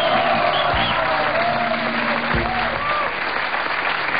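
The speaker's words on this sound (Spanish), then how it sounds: "Un aplauso para ella." A crowd claps steadily and loudly for about four seconds, a dense continuous wash of hand claps with voices mixed in underneath.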